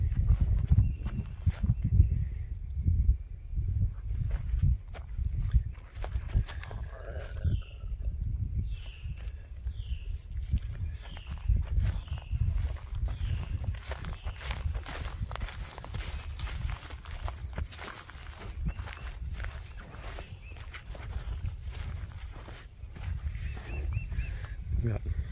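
Two young calves and a couple of cows walk to a new pasture, their hooves thudding and clopping in an uneven shuffle close by, with rustling and a few faint bird calls in the background.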